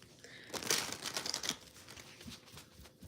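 Tarot cards being shuffled by hand, a run of quick crisp riffling and papery flicks up close, busiest early on and then fading to softer rustles.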